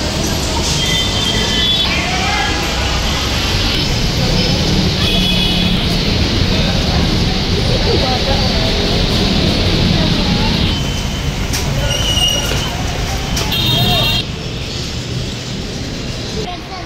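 Riding the LRT light rail train in the Philippines: a constant loud rumble of the moving car with rising and falling tonal whines from the motors, a steady interior roar throughout.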